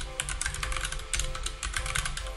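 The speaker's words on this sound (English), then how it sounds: "So let's type in Twitch embed and get this out of the way." Rapid, steady typing on a computer keyboard, close and fairly loud, with dense clustered key clicks continuing throughout and no speech over them.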